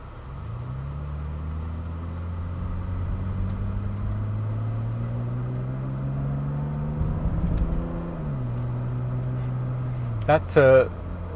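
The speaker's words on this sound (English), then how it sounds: "That straight six really does give a very nice exhaust note, actually." A classic Mercedes 300CE W124 straight-six gives a steady engine drone with a smooth, rising and falling exhaust hum while cruising, road noise underneath, and a brief higher whine near the end.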